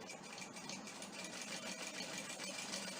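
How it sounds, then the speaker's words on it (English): An industrial sewing machine whirs steadily at its highest speed, a dense continuous mechanical buzz with no pauses, close and moderately loud. "you control the speed of your industrial machine"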